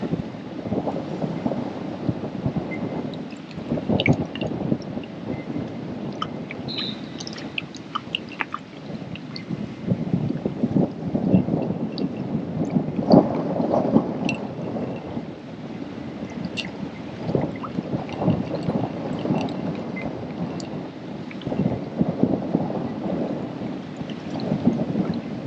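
Gusty wind buffets the microphone beside a fishing lake, a continuous low rumbling roar rising and falling throughout with no speech.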